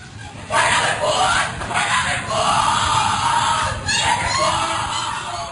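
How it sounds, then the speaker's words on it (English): Frenzied group yelling and shrieking at the Skull and Bones initiation ceremony, a loud burst of overlapping cries rising suddenly and continuing in waves of chaotic crowd noise. "What you're hearing is the first recording ever made of the Skull and Bones initiation ceremony."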